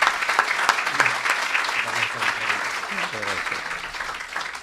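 An audience at a lecture hall applauds the dean after a keynote lecture, with a steady, full burst of clapping throughout and a voice speaking faintly underneath.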